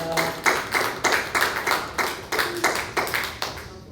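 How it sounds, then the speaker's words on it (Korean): A church congregation claps in a steady, rhythmic beat, about two claps per second, sustained and fairly loud throughout. "우리 하나님께 영광의 박수 올려드리겠습니다."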